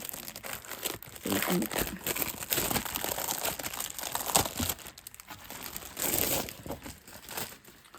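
A plastic packet crinkles and rustles near the listener as a 12 by 12 paper pad is pulled out of it, with steady crackling handling noise throughout.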